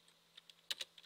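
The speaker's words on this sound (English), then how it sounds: "now what I'm going to type over it is" Quick, faint keystrokes on a computer keyboard, a handful of light taps with a short cluster near the end, close up in a quiet room.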